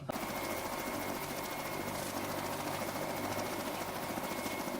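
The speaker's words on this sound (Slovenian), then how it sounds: "Kaj pa je to za en model? Helikopter." A helicopter in a staged news-parody scene keeps up a steady, loud, continuous rotor and engine drone, an unbroken mechanical hum that dominates throughout with no talk over it.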